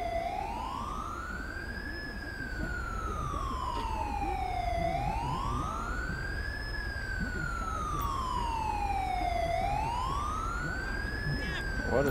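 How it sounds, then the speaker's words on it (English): Ambulance siren in the LSPDFR police mod for a video game, a continuous wailing tone sweeping slowly up and down in long regular cycles, loud and steady throughout with faint background noise. "What is going on with that ambulance?"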